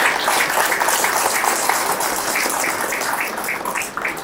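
Sustained clapping from a seminar audience at a talk in a packed hall, a dense, steady wash of many hands with no voices, holding loud for about four seconds.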